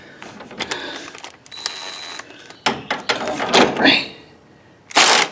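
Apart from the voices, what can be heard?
3/4 inch socket wrench removing a bolt on a John Deere lawn tractor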